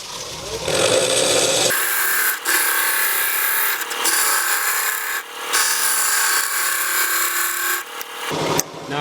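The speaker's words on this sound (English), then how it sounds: "I'll be using a square inch scraper" A square scraper hollows a wood piece spinning on a lathe, giving a loud, steady, close scraping whir that runs almost without a break, with brief dips as the tool lifts off.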